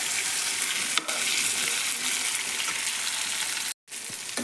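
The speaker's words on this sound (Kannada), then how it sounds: "ಸ್ವಲ್ಪ ಎಣ್ಣೆ ಒಳಗೆ ಜಾಸ್ತಿ ಹೊತ್ತು ಫ್ರೈ ಆಗ್ಬೇಕು ನೋಡ್ರಿ" Eggplant pieces frying in oil in a pan, a steady bright sizzle with occasional stirring scrapes and a momentary gap near the end.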